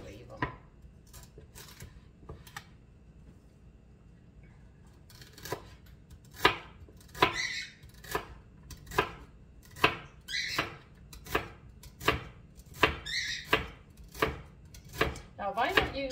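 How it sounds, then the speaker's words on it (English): A knife chops celery into thin slices on a board, at first with sparse, scattered cuts and then with a steady run of crisp, close thunks about one per second, with faint room tone in between. "Make sure you cut your celery slices really thin"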